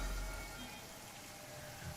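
Rain in the video game Genshin Impact falls as a steady, even hiss, moderately quiet and unbroken, with no voices over it.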